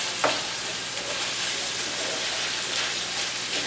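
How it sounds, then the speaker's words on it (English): Longaniza sausage frying in a pan, a steady close sizzle with a sharp utensil knock at the start and soft stirring scrapes throughout. "So, I'm going to stir up this longaniza."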